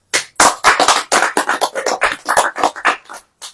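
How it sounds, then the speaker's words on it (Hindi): A church congregation claps during a Hindi sermon, a series of sharp, fairly loud bursts of hand claps in an irregular rhythm, close and without talk. "अब ताली बजाइए।"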